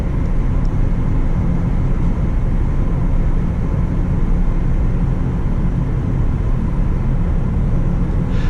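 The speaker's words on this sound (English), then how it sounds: "just to give you a quantitative idea of what the sound of the vehicle sounds like" Steady cabin rumble of a Tesla Model S P90D electric car cruising at about 68 mph, broad low road and wind noise holding constant and loud throughout with no talking.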